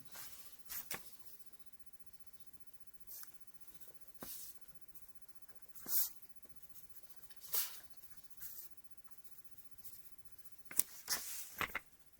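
A pencil scratches out a sentence on paper in short, quiet bursts of strokes with pauses between them, close by in a very quiet room.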